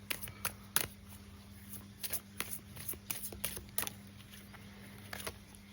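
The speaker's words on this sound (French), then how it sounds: "Je vais encore prendre une petite carte." Tarot cards handled at a reading, giving a series of short, crisp card slaps and flicks scattered across a few seconds, close and fairly quiet, with no talking.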